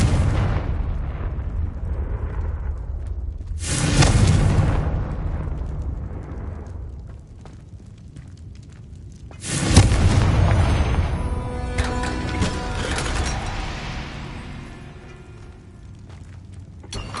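Two loud, booming spell explosions from the Confringo curse in Hogwarts Legacy, one near 4 seconds and one near 9.5 seconds, each a sharp blast followed by a long rumbling, crackling decay with debris-like sounds trailing off.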